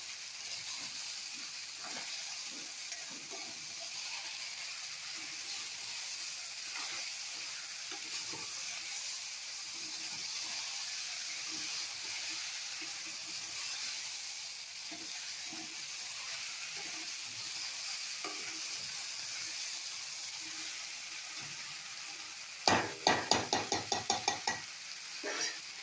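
A steady sizzle and hiss of food frying in a pan, with occasional soft scraping from stirring and a sharp series of clatters near the end.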